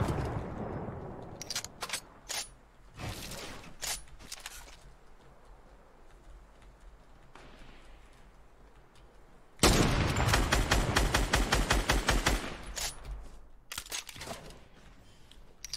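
Sharp gunshots from a Fortnite match crack out in scattered bursts, one louder rapid cluster among them, with gaps of quieter in-game ambience between the shots.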